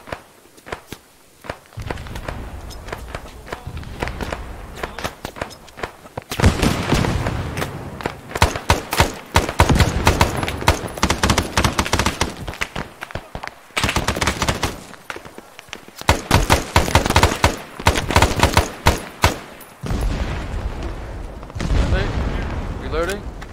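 Frag grenade explosions and rapid gunfire in the military shooter game ARMA 3, with repeated booms and crackling bursts coming in clusters, plus players talking over the combat.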